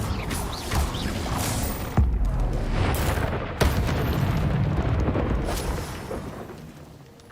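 A fiery Incendio spell cast in Hogwarts Legacy gameplay, heard as a dense roaring, crackling whoosh with sharp booming bursts near two and three and a half seconds, sustained and loud throughout.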